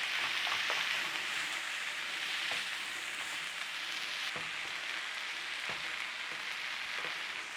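Onions sizzle steadily in a frying pan for a Kentish cheese casserole, a dense, continuous crackle close by with a few faint clinks of stirring.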